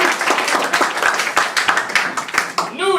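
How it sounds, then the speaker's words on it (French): Audience at a theatresports improv comedy show claps loudly and briskly, individual claps audible within the dense applause, with a voice beginning to speak at the end. "On peut l'applaudir bien fort."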